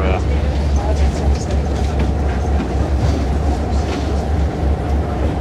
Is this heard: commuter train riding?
yes